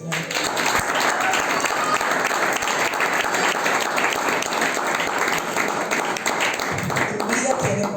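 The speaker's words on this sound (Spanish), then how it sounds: "vamos a dar un aplauso al Señor" A church congregation applauds during a Spanish-language sermon, a loud, dense wash of clapping that holds steady throughout, with scattered voices and cheers mixed in.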